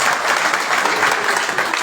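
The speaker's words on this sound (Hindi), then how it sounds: "एक बार जोरदार ताली बजा दीजिए।" Loud, dense applause from an audience at a Ram Katha religious gathering, steady throughout with no pauses.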